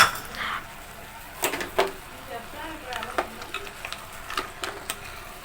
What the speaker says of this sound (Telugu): అలాగే ఇందులో 10 to 15 కాజు వేసుకుందాం.